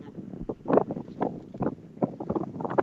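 Gusty wind buffets the microphone on a frozen lake in bitter cold, coming in uneven low rumbling bursts that rise and fall, with no clear voices over it.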